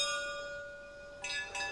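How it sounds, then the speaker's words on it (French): A bell rung at noon at Château d'Yquem, the Sauternes wine estate, rings out with steady sustained metallic tones, and two fresh, brighter strikes come near the end of the short stretch. "Ah, la cloche."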